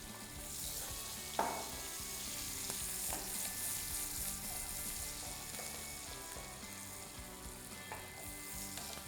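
Leeks fry in a pan for a pumpkin soup with celery, a steady, fairly quiet sizzle heard up close, with a sharp clatter early on and a few faint stirring knocks.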